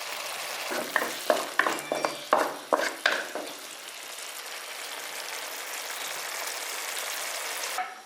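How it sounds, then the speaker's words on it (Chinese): Tomatoes stir-fried in a wok until their juice runs: a dense, steady sizzle with a run of sharp, rhythmic scraping stirs in the first half, then an even hiss of frying alone. "这番茄炒出汁儿，番茄炒出汁儿来"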